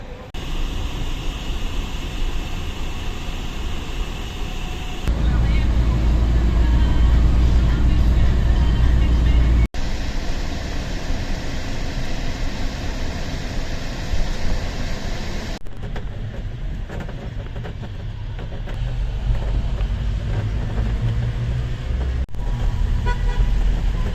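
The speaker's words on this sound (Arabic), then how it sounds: "جبنا الميكروباص اهو ب 160 جنيه" Steady road rumble from inside a microbus travelling to Alexandria, with engine drone, passing traffic and occasional horn toots; voices talk faintly at times, and the ride noise shifts abruptly between sections.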